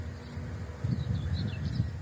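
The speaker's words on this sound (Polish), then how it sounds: "Proszę bardzo, jest tu pszczoła." Honeybees buzz close by at a beehive, a low droning hum that rises after the first moment into several overlapping buzzing passes, with faint higher tones above.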